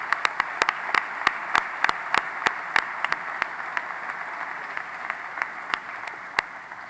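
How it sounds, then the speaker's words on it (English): Sparse, scattered claps from a small audience at an award presentation during a summit, sharp individual hand claps spaced irregularly over a low room hum rather than a full ovation. "Give a great round of applause to the Isaiah House for this first award."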